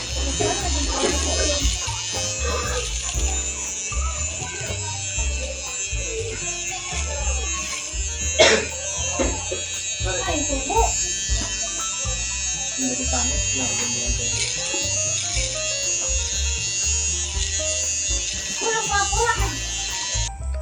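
An electric shaver buzzes steadily and close throughout, a constant high whine with faint voices and small shifts in pitch as it moves.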